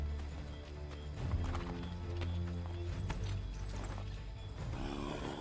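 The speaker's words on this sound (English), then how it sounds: "Hold the horse up." Horse hooves clip-clopping at a trot in Assassin's Creed 3, steady rhythmic footfalls under game music and ambient sound, with a faint whinny.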